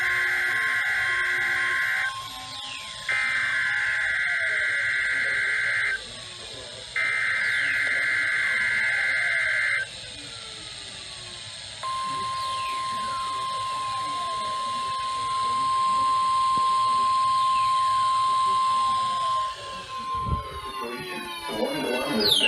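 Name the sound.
Emergency Alert System weather warning alarm tone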